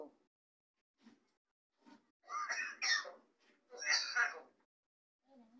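Two raspy, human-sounding coughs from a myna bird mimicking a cough, with a few soft, faint sounds scattered around them.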